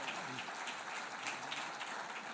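A conference audience applauds in a continuous, even wash of clapping that sounds distant and quiet, with no clear break throughout.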